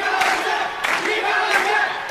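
An anime baseball stadium crowd roars and applauds, a dense wash of many voices and claps that swells in a few surges across a short stretch.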